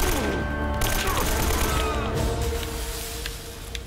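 Dense gunfire fills a firefight in Uncharted: Drake's Fortune, with rapid bursts and shots cracking over a rumbling game soundscape, loud and continuous, and voices mixed in.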